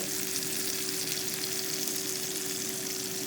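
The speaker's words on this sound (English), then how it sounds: "Listen to that sizzle." Continuous crackling sizzle of food cooking in an air fryer, a steady hiss with a faint constant hum underneath, close up and unbroken.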